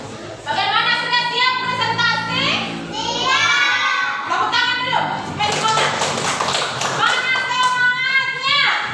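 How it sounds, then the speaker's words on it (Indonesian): A class of children claps hands together in a classroom, a steady run of sharp claps mixed with excited children's voices throughout. "Tepuk tangan dulu. Supaya semangat."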